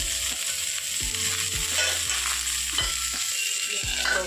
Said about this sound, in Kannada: ಸ್ವಲ್ಪ ಕರಿಬೇವು ಸೊಪ್ಪು, ಮೆಣಸಿನ ಸ್ವಲ್ಪ, ಬೆಳ್ಳುಳ್ಳಿ 1-2 ಹಾಕಿ ಇದಕ್ಕೊಂದು ಸ್ವಲ್ಪ ಉಪ್ಪು ಹಾಕ್ತಾಯಿದ್ದೀನಿ. ಸ್ವಲ್ಪ ಫ್ರೈ ಆಗಲಿ